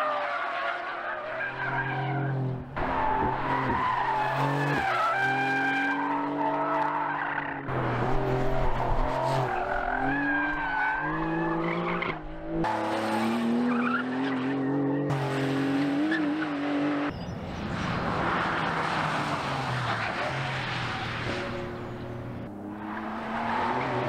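A 2020 Porsche 911 Carrera S (992 generation) corners hard, its tires squealing and skidding in repeated bursts over a rising and falling engine note, loud and close, with no talking.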